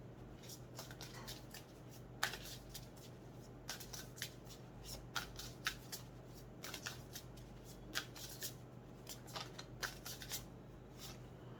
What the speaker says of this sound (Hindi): इस तरीक़ा से मेरे पास कार्ड्स आ रही है।